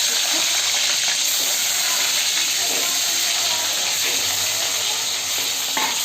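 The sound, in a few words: eggs dropped into hot oil frying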